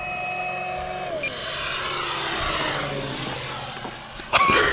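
An E-flite Carbon-Z Cessna 150T RC plane with a 2.1 m wingspan passes overhead as its throttle is cut, the electric motor whine dropping in pitch and giving way to a rushing airframe swoosh, ending in a sudden loud gust near the microphone.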